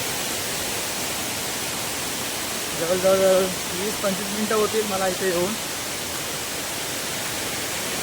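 The Bandhtivare waterfall near Dapoli sends up a dense, even roar of rushing water that fills the whole stretch, while someone talks over it for a few seconds in the middle.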